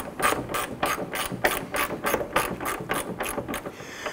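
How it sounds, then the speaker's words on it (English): A socket ratchet runs down a fender bolt on a 1997-2006 Jeep Wrangler, giving about a dozen quick bursts of sharp pawl clicking in a steady back-and-forth rhythm, close and clear with no talk. "we're going to go ahead and use our socket and just run that bolt down"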